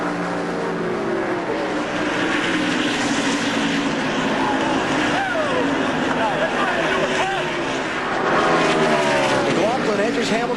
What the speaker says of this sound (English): McLaughlin edges Hamilton Jr. for 8th place at the line